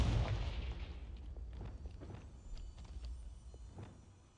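A Confringo fire spell blast in the video game Hogwarts Legacy, one heavy boom at the start that fades into a rumbling tail with scattered crackling impacts.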